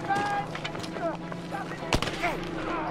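Gunfire in the Battlefield V video game, with scattered shots and one sharp nearby report amid a busy battle mix, heard under people talking.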